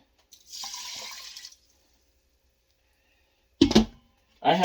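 Chicken stock pouring into an Instant Pot, a steady liquid splash lasting about a second, close and moderately loud, followed later by a voice speaking.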